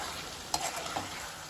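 Smashed garlic stirred with a spoon and lightly frying in a pan for mutton pepper liver fry, giving a steady soft sizzle with a few sharp spoon scrapes and clicks, close and moderately quiet with no talking.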